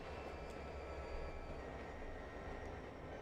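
Trains in the Trainz Simulator 2 video game, heard as a faint, steady rumbling hum that holds level throughout without breaks.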